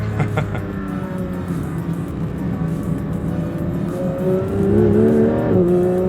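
A Porsche 992 GT3 driven hard on a track on a hot day, its engine droning loudly from inside the car and rising in pitch as it accelerates toward the end, with no talking.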